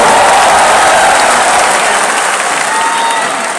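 Loud, sustained applause from a large audience at a Prabowo–Gibran political rally in Indonesia, a dense wash of clapping that fills the whole stretch and eases off slightly toward the end.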